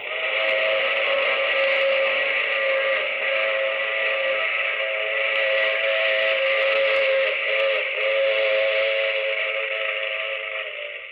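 Sustained steam train whistle in a radio drama, a loud, steady multi-tone blast holding for about eleven seconds before easing off slightly at the end.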